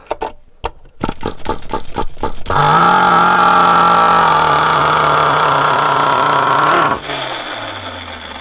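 A small RC model combustion engine, running rich, catches after a few sputtering pull attempts and settles into a loud, steady high-pitched buzzing run before dropping to a lower idle near the end.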